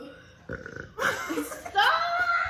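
Long, loud burps from drinking Pepsi, close to the microphone, rolling out back to back, with voices and a bit of laughter mixed in.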